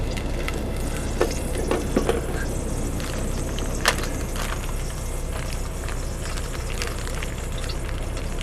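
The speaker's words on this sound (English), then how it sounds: "There was a little bit of water left in here, that's why it's crackling and popping." Leftover water crackling and popping in a hot pan while cooking chicken, a steady sizzling hiss dotted with sharp, scattered pops and crackles, close and moderate in volume.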